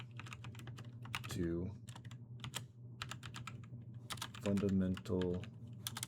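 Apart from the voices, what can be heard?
typing on a computer keyboard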